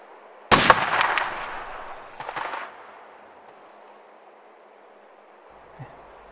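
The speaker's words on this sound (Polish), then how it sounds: "Strzelam." A single sniper rifle shot at an outdoor firing range cracks out loud and sharp, then rolls away in a long fading echo, with a second smaller report soon after and quiet afterwards.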